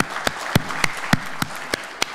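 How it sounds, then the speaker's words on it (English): Rhythmic applause for MBA students at a keynote address, a crowd clapping in unison with about eight sharp, evenly spaced claps over a softer background of scattered hands. "A big round of applause"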